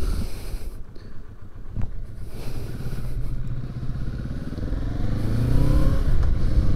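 A Kawasaki Vulcan cruiser motorcycle engine rumbles steadily while riding, with wind noise over it. The low drone builds gradually and grows louder toward the end as the bike speeds up.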